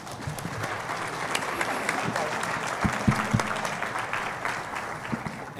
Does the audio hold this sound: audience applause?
yes